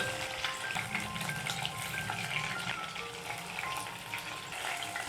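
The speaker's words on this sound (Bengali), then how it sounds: "মাছের 1 পিঠটা ভাজা হয়ে গেছে, এবার মাছগুলোকে উল্টে দিতে হবে।" Pieces of hilsa fish fry in hot oil in a pan, a steady close crackling sizzle that continues without a break.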